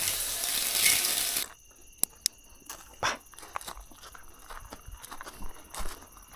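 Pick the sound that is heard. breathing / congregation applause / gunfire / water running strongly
water running strongly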